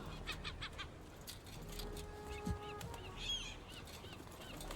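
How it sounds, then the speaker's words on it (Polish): Geese honk in a video game (Concrete Genie), scattered calls over a steady low background hum, several brief nasal cries, fairly quiet and a little distant. "Jakie durne ptaki!"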